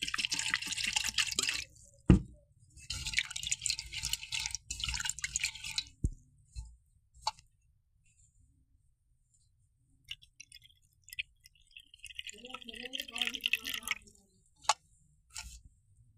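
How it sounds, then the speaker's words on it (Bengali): Flattened rice (chira) being washed in water by hand: intermittent splashes and drips in bursts with quiet pauses between, close and fairly faint. "ভিজিয়ে একটু ধুয়ে নেব, ধুয়ে পানি দিয়ে একটু ভিজাবো।"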